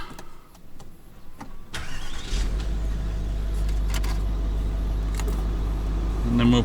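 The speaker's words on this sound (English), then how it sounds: "Just going to start the car up." A car engine cranks and catches, settling into a steady, loud idle with a low rumble, preceded by a few knocks and clicks inside the vehicle; the engine revs up briefly near the end. Off-road vehicle fitted for two-way radio.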